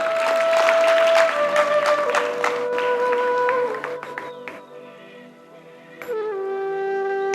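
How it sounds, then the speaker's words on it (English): Applause from a college day audience for an arts award recipient, a broad wash of clapping that blends with sustained musical tones and gradually gives way to the music alone. "Let's give a huge round of applause to Ananya Giridhar for having achieved this prestigious award"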